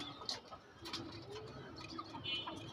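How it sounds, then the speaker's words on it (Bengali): A racing checker pigeon coos softly nearby, a few low, rounded coos rising faintly above a quiet indoor background with light scattered ticks and no speech. "অনেক সুন্দর একটা কবুতর।"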